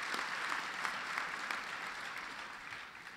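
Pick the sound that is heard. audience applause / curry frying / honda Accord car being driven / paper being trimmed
audience applause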